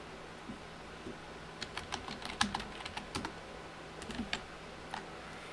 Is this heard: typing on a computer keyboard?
yes